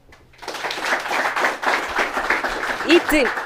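Applause for a secondary school journalism club team at a live radio event, a burst of clapping that rises quickly and holds steady, with a voice briefly heard near the end.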